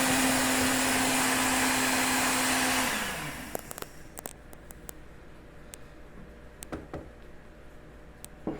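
An electric mixer beats birthday cake batter with a loud, steady motor whir for about three seconds, then is switched off and winds down, leaving a quiet room with a few small clicks and handling taps.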